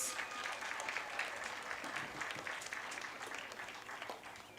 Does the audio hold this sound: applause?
yes